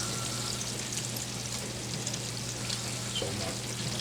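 Meatballs frying in a pan give a steady, soft sizzle and crackle throughout, with a low constant hum underneath.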